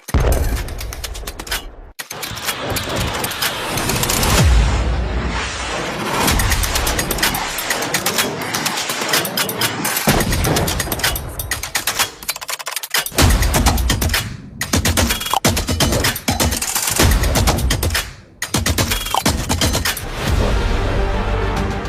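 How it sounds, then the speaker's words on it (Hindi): Rapid bursts of anti-aircraft gunfire in Kabul, loud, dense and sustained, with heavy thuds and brief pauses between volleys and no talk. "इसके फौरन बाद एंटी एयरक्राफ्ट गन से जवाबी फायरिंग शुरू हुई है।"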